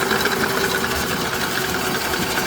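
An Ankarsrum stand mixer whisks butter with a steady, rattling mechanical whir, close and continuous, with a fine rhythmic vibration from the shaking bowl.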